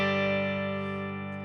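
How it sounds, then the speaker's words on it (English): A single clean electric guitar chord through a Barber Electronics Tonepress compressor pedal sustains evenly, smooth and slightly squeezed, fading only a little as it rings. "Engaging the compressor should sound exactly the same at these settings."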